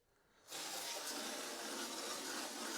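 After a quiet moment, a pressurized sprayer with a small brass nozzle fitting bursts on and hisses steadily and loudly, a broad continuous jet with no voices.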